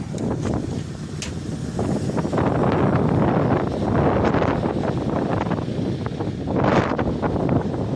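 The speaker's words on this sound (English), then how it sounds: "It's a bit windy, I'm afraid." Strong wind buffeting the microphone, a continuous roaring rush with gusts swelling louder near the middle and again toward the end.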